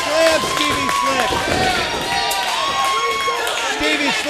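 A wrestling crowd roars and cheers at an independent show, dense and continuous with scattered claps, while a commentator talks over it.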